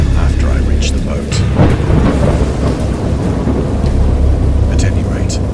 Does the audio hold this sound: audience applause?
no